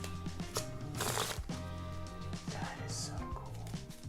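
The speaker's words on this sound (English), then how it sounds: "What does that look like when we shuffle it now?" Playing cards from a new LZY deck by House of Playing Cards being shuffled in several riffling bursts, close and fairly quiet, with no talking.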